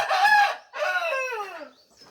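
A Shamo rooster on a poultry farm lets out a loud, close crow in two drawn-out phrases, with a brief faint cluck trailing after and no talk.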